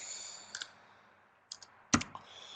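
Keyboard typing while entering an average formula into a row of an Excel worksheet: quiet, soft clicks in a few short bursts, with a louder cluster of keystrokes near the end, close up and alone.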